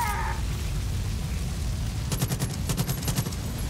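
Gunfire in the Far Cry 5 Zombies game: a rapid burst of repeated shots in the second half, set over a steady background rumble.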